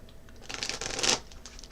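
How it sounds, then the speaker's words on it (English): Tarot cards being shuffled give a soft papery riffle that swells and fades over about a second, close and fairly quiet, with no talking. "here I go, shuffling my cards again"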